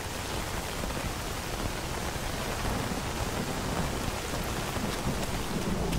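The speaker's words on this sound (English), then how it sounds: "Can I see anything at all through all this rain?" Heavy rain and thunder in the video game Stalker Anomaly, a dense, steady downpour hissing loudly and evenly throughout, with low thunder rumbling beneath it.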